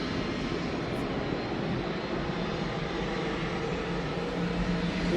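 Aircraft landing nearby at an airport where a modified Boeing 747 sits, heard as a steady, loud engine roar and broad rushing drone that holds evenly throughout without talk.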